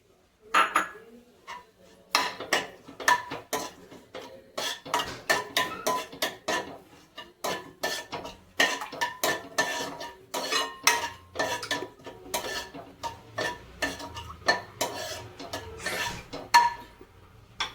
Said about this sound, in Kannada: ಒಂದು ಬಾಣಲೆಗೆ ಸ್ವಲ್ಪ ತುಪ್ಪವನ್ನು ಹಾಕಿ, ನಂತರ ಅದಕ್ಕೆ ಡ್ರೈ ಫ್ರೂಟ್ಸ್ ಅನ್ನು ಹಾಕಿ ಚೆನ್ನಾಗಿ ಹುರಿದುಕೊಳ್ಳಿ